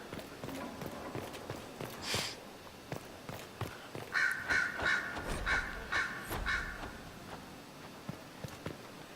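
Crows cawing in the fantasy video game Dragon Age: Inquisition, a run of about six short harsh calls in close succession mid-clip, over clopping hoof-like footsteps and faint ambient game noise.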